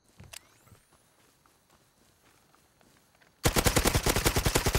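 Rapid automatic gunfire erupts in the video game Rust after a few seconds of quiet with faint footsteps, a loud close burst of evenly spaced shots continuing to the end.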